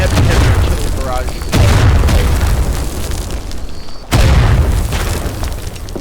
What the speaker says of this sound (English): Shell shock. Heavy artillery barrage.